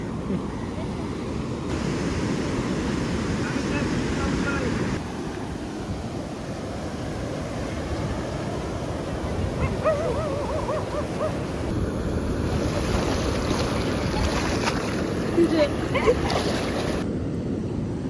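Ocean waves at Shiroda Beach, a continuous roaring surf wash with wind noise, steady and fairly close, with faint voices in the background.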